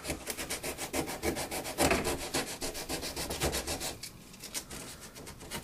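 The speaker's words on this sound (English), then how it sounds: "I just have an old paintbrush that I just sweep away to see" An old paintbrush sweeps over a model railroad roadway surface in steady, rapid back-and-forth strokes, a close, continuous scratchy brushing rhythm without talk.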